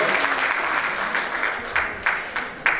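Audience applause at a Turkish community choir's New Year concert, a sustained crowd clapping with several sharper bursts swelling toward the end.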